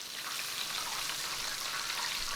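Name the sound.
spinach pies frying in hot oil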